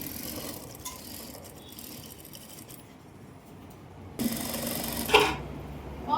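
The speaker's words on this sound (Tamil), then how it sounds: "பேக் சைடு துணி மேலே தான் அமுக்கு தையல் போடணும்" A sewing machine runs a pressed-down topstitch along the back side of a palazzo pant seam. The mechanical whirring starts, pauses briefly, then picks up again louder, with sharp clicks near the end.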